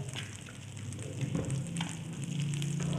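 Kashmiri red chilies sizzle and fry in a pan with oil while cooking eggs, a steady close crackle that swells slightly with a faint stir near the end, no talking.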